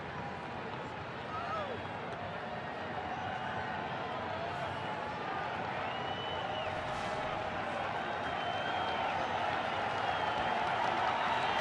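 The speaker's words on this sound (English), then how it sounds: "Big crowd cheering on James Russell" Big ballpark crowd at a Reds–Cubs baseball game cheering steadily for pitcher James Russell, a continuous roar of voices and scattered shouts that holds and slightly swells throughout, with a commentator talking over it.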